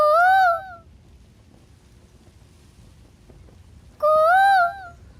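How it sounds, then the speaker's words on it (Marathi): A koel gives two clear, rising whistled calls, the first at the start and the second after about three seconds of quiet outdoor background. "इथं ना वरती एक कोकिळ आहे. आपण हाक मारली ना की ती पण आवाज देती."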